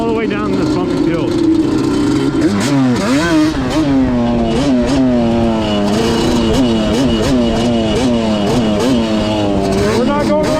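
Yamaha Banshee 350 ATV with weak mufflers revving hard through a wheelie down a bumpy hill, loud close two-stroke engine wailing and rising and falling continuously, wind noise throughout.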